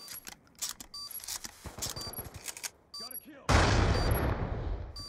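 Rapid bursts of gunfire in a Call of Duty Black Ops 2 Search and Destroy match, sharp cracks and a heavy sustained blast near the end, with players talking over the shooting.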